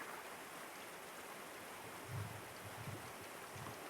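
Mountain stream water in the fishing game Cast n Chill, a steady broadband rush of flowing water with a few soft low splashes, continuous and moderately faint, no voices.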